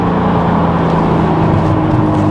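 Aston Martin DB11 V12 engine in Sport Plus mode, a loud, steady low drone heard from inside the car with a continuous rumbling hum and no talking.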